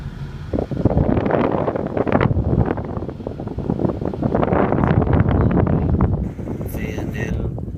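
A 2003 Ford F350 4x4 truck's air conditioning fan blows a loud, steady rush of air close by, with someone talking over it.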